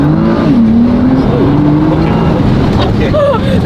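A Nissan GT-R accelerates hard, its engine a loud, steady roar with rising pitch sweeps heard from inside the car, while voices talk over it.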